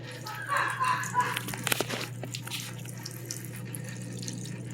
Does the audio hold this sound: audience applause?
no